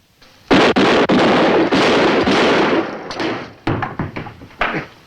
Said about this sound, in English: This is only the second time we've seen someone actually shoot a gun on camera.